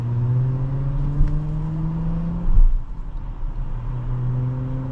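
A 2026 Jeep Cherokee Overland accelerates, its engine note climbing steadily through a gear, pausing briefly at a shift, then rising again, heard from inside the cabin with no talk.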